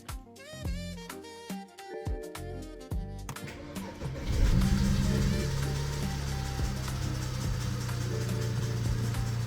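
A car engine cranks and catches after a charge pipe upgrade, then settles into a loud, steady idle close by, following several seconds of clattering workshop noise.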